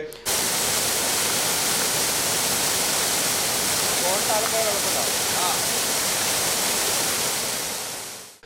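A constant, powerful roar of rushing water pours on without pause, dense and noisy, released through a shutter of Vazhani Dam raised 12.5 cm into the Wadakkanchery river.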